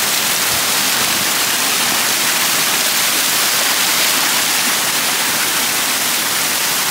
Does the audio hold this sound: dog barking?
no